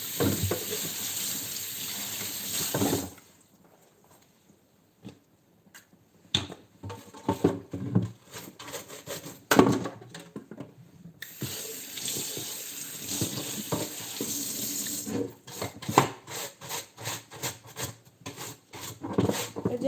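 Running kitchen tap while dishes are washed in a sink during early morning food prep, a steady splashing stream that stops for several seconds, then returns with clinks and handling noises, fairly close with no talk.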